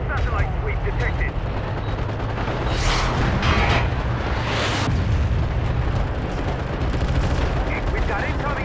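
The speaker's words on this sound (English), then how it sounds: "We've got incoming artillery fire." Incoming artillery shells in the war game MAG land in two heavy, booming blasts a couple of seconds apart, amid a dense, continuous roar of battlefield gunfire.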